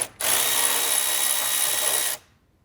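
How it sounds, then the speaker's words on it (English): An electric ratchet spins a T25 fastener off the fan shroud of a BMW E46 M3, one close, steady high whir lasting about two seconds before cutting off abruptly. "Just going to zap it off really quick with the electric ratchet"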